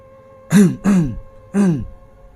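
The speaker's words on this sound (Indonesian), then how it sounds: "Aku coba berdehem." Three short throat clearings, close and distinct: two quick ones in a row, a brief pause, then one more, with no talking.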